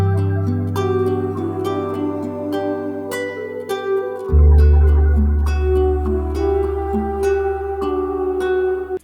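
Melodic sample loop for a beat: repeating plucked harmonic notes over sustained tones, with a deep bass swell entering midway and holding to the end, loud and full with no talking.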